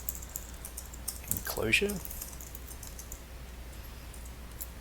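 Quiet keyboard clicks while writing Django code for a podcast app, a short burst of soft taps under a voice, then faint scattered keystrokes in a hushed room.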